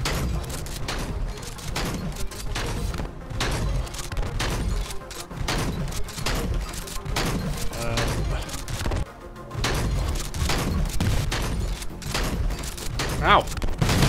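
Constant rapid weapon fire in the video game Rogue Stormers, dense bursts of thuds and crashes running throughout with little pause, loud and busy; a voice talks over it at times.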